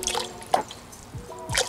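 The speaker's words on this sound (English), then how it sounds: "splash in some more of my favorite lemon-scented bleach" Lemon-scented bleach splashed into a bucket of water for cleaning a coolant tank, heard as a few soft drips and trickles with faint splashes, quiet and close, no voices.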